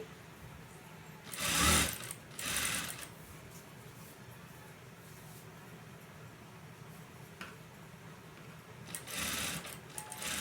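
Sewing machine stitching a lace-trimmed V-neck blouse seam, running in two short loud bursts near the start and again near the end, with quiet pauses between.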